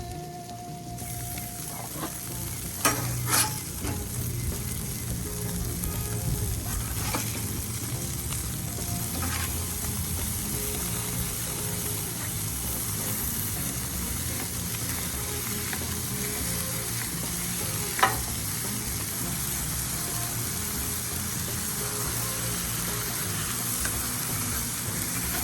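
Burgers sizzle steadily on a Blackstone griddle, a dense continuous frying hiss lasting throughout, with a few sharp clicks and scrapes of a spatula standing out above it. No one speaks.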